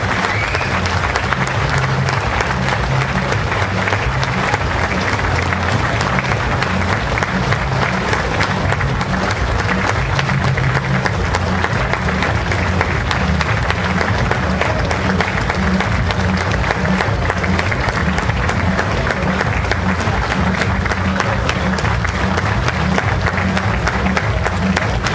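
An audience at a 2014 convention in Dallas, Texas applauds loudly and steadily, with the clapping sustained the whole time.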